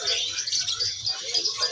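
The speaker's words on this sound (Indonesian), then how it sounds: "Selanjutnya ada cucak hijau PH." A green leafbird at a bird seller's shop chirps in quick, bright repeated notes, close and fairly loud, over a low murmur of background voices.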